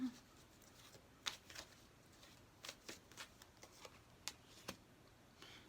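Tarot cards being shuffled for a pick-a-card love reading, heard as a series of soft, quick riffling and flicking bursts spread across the quiet clip, close by and fairly faint, with no talking.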